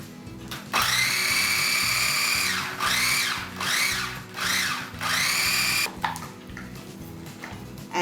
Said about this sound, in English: be grinding the green peas, the mint, and the green chilies all together into a food processor.